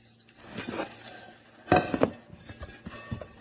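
Nonstick frying pans from a 19-piece CAROTE cookware set with detachable handles being handled in a kitchen, giving scattered metallic clinks and knocks, with a louder cluster of clatters midway, all close and moderately loud.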